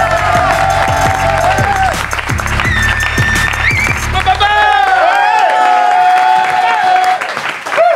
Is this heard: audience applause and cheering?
yes